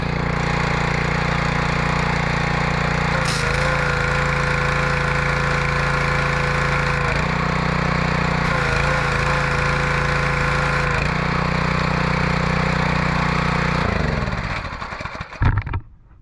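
A Homelite 2700psi pressure washer engine, its carburetor newly fixed, runs close by in a loud, steady small-engine drone. Two brief surges interrupt the drone before it cuts off near the end.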